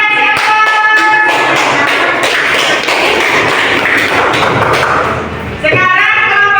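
A classroom audience claps steadily for several seconds, a dense loud patter of hands with faint voices underneath, fading out as a speaker resumes.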